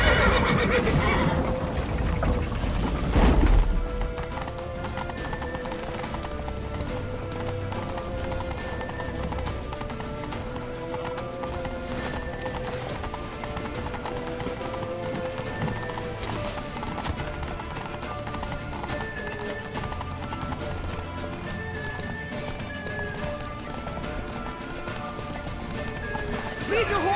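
Horse hooves gallop in The Witcher 3: Wild Hunt, a rapid clip-clop running under dense game music and ambience. A loud whinny comes near the start, and voices are heard shouting during the ride.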